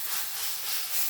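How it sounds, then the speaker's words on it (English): Spray oil sizzles in a hot pan, giving a continuous bright hiss that holds steady across the short moment without any voices. "That sizzle says it's good."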